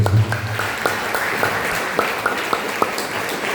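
A church congregation claps along in a worship service, a steady wash of applause with sharp individual claps standing out at a regular beat, fairly loud and without talk.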